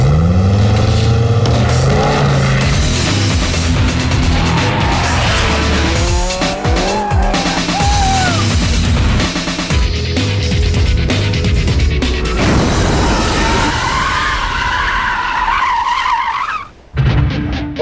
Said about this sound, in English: Okay, Paul, we put you in this Ferrari F430